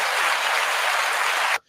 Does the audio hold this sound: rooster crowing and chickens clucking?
no